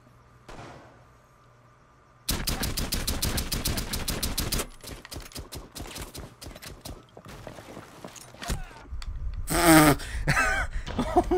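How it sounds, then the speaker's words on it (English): Rainbow Six Siege gun battle: after a near-silent start, a fast, evenly spaced burst of automatic fire rattles for about two seconds, followed by scattered single shots, impacts and a loud voice near the end. "Those are the worst gun battles of my fucking life."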